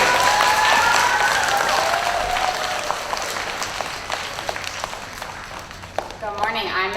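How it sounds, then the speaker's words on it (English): Sustained applause from a school assembly audience fills the room, steady and fairly loud, with a voice briefly audible near the start and a few cheers toward the end. "So let's give Alexander a cheer"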